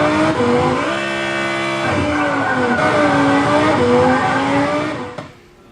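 A racing car engine in a video game revs loud and sustained, its pitch climbing and shifting through gears, then fading out at the end.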